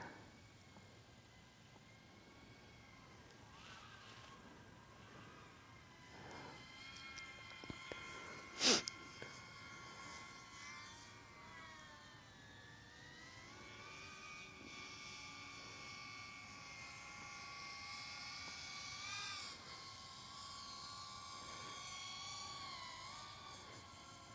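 GEPRC CL30 FPV drone passing overhead, a steady whining engine-like drone that builds and fades across the pass, with a brief sharp bump partway through.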